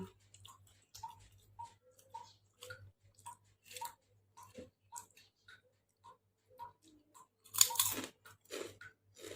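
Crispy homemade golden pea crackers crunched in steady close-up bites, a regular series of sharp crunches and chewing with one louder, brighter crunch near the end.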